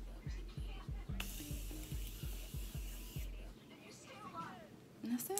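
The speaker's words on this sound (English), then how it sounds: "we're gonna just spray it with this Morphe spray" A Morphe makeup setting spray hisses in a long, steady fine burst lasting about two seconds, close by, over a rhythmic low thumping beat.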